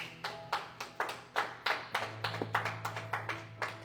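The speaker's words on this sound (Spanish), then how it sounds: "Dele otro fuerte aplauso al Señor." A church congregation claps in a slow, uneven rhythm, a dozen or so distinct hand claps spaced about a third of a second apart, fairly faint and somewhat distant, with a low hum underneath.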